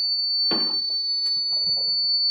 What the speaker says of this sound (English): We got the alarm that's going to come back on here